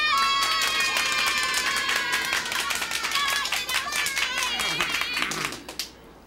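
Animated schoolchildren at a 1989 school ceremony clap in a brisk, continuous patter under loud, sustained cheering voices before the noise cuts off.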